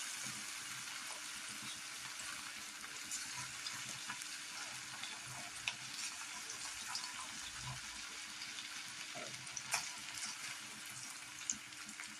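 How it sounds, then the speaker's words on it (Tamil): Marinated chicken 65 deep-fries in hot oil with a soft, steady bubbling hiss, fairly quiet and continuous, with a few faint clinks and no talking. "இப்போ நாம் சிக்கன் பொரிச்சு எடுத்துடலாம் வாங்க."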